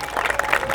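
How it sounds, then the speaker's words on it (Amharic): Applause rises at a dramatic moment in an Ethiopian drama series scene, a brief burst of clapping from a small crowd lasting under a second, moderately loud and close. "አጨብጭቡላት"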